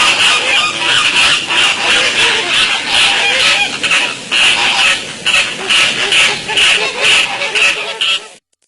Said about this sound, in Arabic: وزة وزة وزة وزة